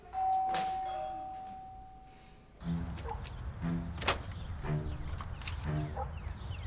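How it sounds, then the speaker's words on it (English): A doorbell chimes once at the start, its tone ringing out and slowly fading in a quiet home before footsteps and knocks follow. "Then you'll miss the doorbell."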